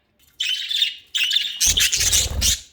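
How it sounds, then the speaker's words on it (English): Pet budgies chirp and squawk in several loud, close bursts of busy twittering, the last ones harsher and fuller, with no talking over them. "these birds are desperate to go out"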